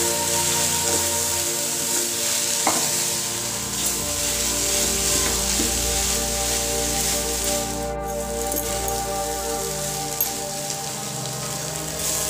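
Vegetables and mashed potato filling for cabbage rolls, stirred in a hot pan on a gas flame, giving a steady close sizzle and hiss that runs throughout with a few faint scrapes.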